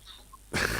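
A single sudden sneeze bursts out near the microphone after a quiet moment of room tone, loud and broadband, ending in a brief burst of noise.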